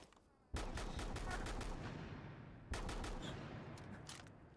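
Shotgun blasts in the video game Rainbow Six Siege: two loud, booming shots, each followed by a long, dense rumbling decay that fills the short clip.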